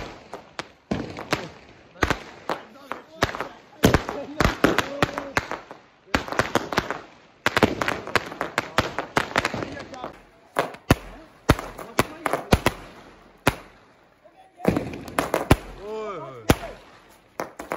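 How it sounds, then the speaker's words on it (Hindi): Fireworks at a wedding crack and pop in rapid irregular bursts, loud and close, with sharp bangs scattered throughout and brief voices between the explosions. "आतिशबाजी हो रही है सामने।"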